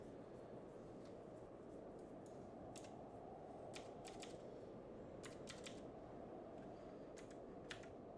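Faint computer keyboard typing, scattered light clicks in small clusters over a steady low background hum.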